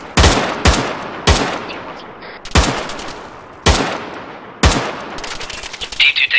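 Suppressing rifle fire during military fireteam training, a series of loud sharp gunshots in irregular bursts about a second apart, close and echoing, with faint background clatter between shots.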